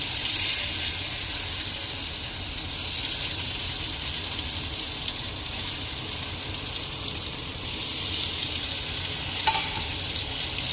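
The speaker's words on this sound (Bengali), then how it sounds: "আলু দিয়ে দেবো। এবার আলু খুব ভালো করে ভেজে নিতে হবে।" Potatoes frying in hot oil with dried red chilli, bay leaf and cumin, a continuous loud close sizzle holding steady throughout, with a faint clink near the end and no talking.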